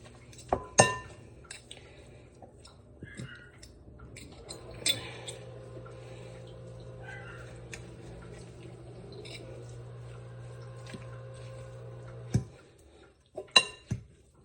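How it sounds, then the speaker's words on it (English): Two forks scraping and clinking against a dish as cooked chicken is roughly shredded, giving scattered sharp metallic clinks with a low steady hum behind them and a cluster of louder taps near the end. "Okay, so 2 forks. I'm just gonna like randomly kind of mush it up."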